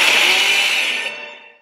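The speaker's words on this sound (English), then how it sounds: "It has a chainsaw." A chainsaw engine screams loud and close at full speed, then its roar fades away over under two seconds with no talking.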